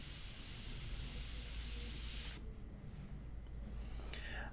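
An airbrush sprays India ink onto paper with a steady, close hiss that runs for a couple of seconds, then cuts off abruptly, leaving only faint room noise.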